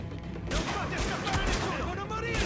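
Rapid gunfire bursts in the shooter video game Tom Clancy's The Division, dense and continuous volleys that grow louder after the first half second, with a voice talking over them.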